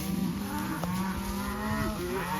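Cattle moo repeatedly during a cattle drive of cow/calf pairs, several overlapping low bellows at middle distance under a constant wash of outdoor noise.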